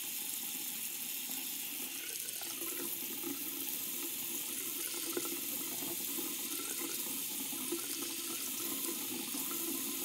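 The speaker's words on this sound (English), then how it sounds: "it says to rinse them off with warm water again." Warm tap water runs steadily into a sink for the whole stretch while rinsing dental aligners, an even splashing rush with no voices.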